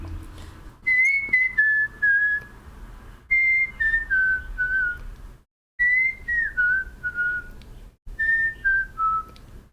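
A person whistles a simple melodic tune in short descending phrases separated by brief pauses, clear and fairly close with no talking.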